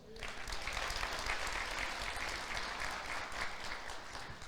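A church congregation applauds during a service, and the dense clapping holds steady and loud for several seconds.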